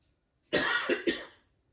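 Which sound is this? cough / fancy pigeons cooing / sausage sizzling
cough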